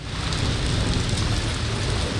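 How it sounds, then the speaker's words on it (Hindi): Heavy rain in Balochistan pours in a thick, constant roar of drops hitting the ground, loud and close, with a deep low rumble underneath and no voices. "हरनाई, गिरदोनवा और पहाड़ी सिलसिलों में तेज बारिश और जालाबारी हुई।"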